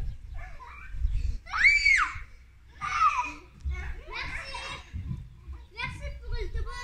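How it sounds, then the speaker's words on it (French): A young child screams and shrieks while playing outdoors, with sharp high cries rising over nearby chatter and background noise, loud and close. "il ne sait pas jouer sans crier, c'est terrible."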